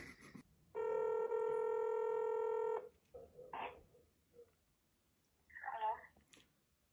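Samsung phone dialing, a long steady keypad tone held for about two seconds, followed by short chirps and clicks, with faint speech in between.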